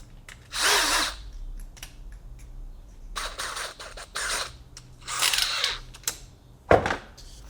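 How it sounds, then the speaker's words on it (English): Power drill with a 1/4 inch bit boring through a Kydex holster held against wood, three long whining bursts of drilling separated by pauses, followed by a sharp knock near the end, close and loud. "and just go to town drilling"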